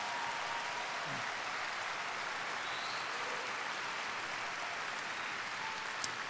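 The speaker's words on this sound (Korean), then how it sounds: "다시 한번 큰 박수 부탁드립니다." Dense, steady applause from a large audience at a university medical institution's vision ceremony after a choir performance fills the whole stretch, a continuous wash of clapping with no voices over it.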